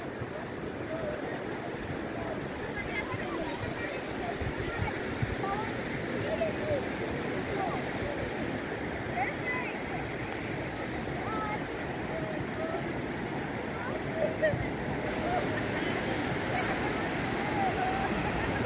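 Sea waves at a beach at dusk make a steady, continuous wash of surf that stays fairly even throughout, with a faint murmur of voices in the background.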